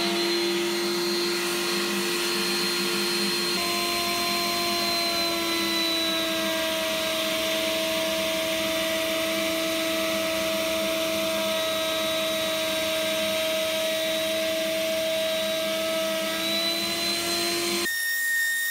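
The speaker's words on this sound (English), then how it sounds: "I cut a rebate into the underside at the bottom of each chamfer." A power tool cuts a rebate into the underside of a wooden live-edge platter, giving off a loud, steady, high whine with a constant drone that runs unbroken for nearly nineteen seconds.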